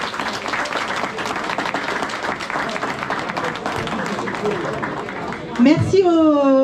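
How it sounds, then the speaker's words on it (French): A crowd applauds at a town inauguration ceremony in Isola, with steady dense clapping throughout and a brief burst of cheering or a whistle near the end. "on peut applaudir aussi vraiment super fort les agents du service technique"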